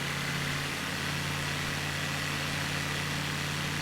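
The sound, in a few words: aircraft engine idling in Flight Simulator 2020 video game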